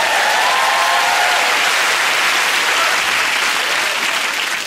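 Loud, dense applause from a television studio audience fills the whole stretch, steady throughout and easing off only slightly at the end.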